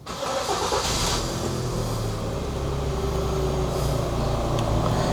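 A 2012 Hyundai Tucson automatic SUV cranks and fires up close, then settles into a steady, even idle hum that continues without speech.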